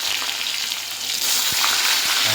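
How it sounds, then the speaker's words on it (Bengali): Salted eggplant frying in oil in a pan, a loud continuous close-up sizzle and crackle with a couple of soft knocks from the pan. "এবার বেগুনটা ভেজে ফেলবো।"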